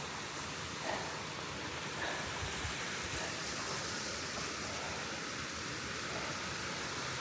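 Flume Brook flowing along a hiking trail, a steady broadband rush of moving water that stays even and fairly close throughout.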